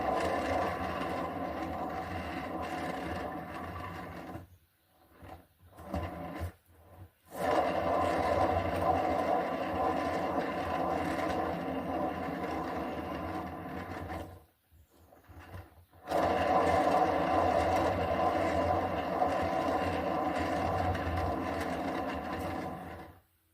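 A motorized paint-pour spinner whirs steadily as a canvas spins, a loud continuous hum that stops twice briefly, once around five seconds and again near fifteen, before resuming, with no talking.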